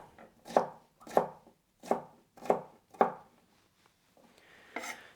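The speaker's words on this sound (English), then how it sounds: "I'll just cut these into cubes" Five evenly spaced knife chops strike a cutting board as a vegetable is cubed for salsa, each a crisp close thud, followed by a softer scrape near the end.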